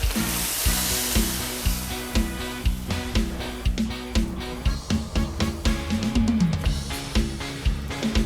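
Pork sizzles steadily in a hot pan, with repeated scraping and stirring knocks at an even rhythm, up close and loud.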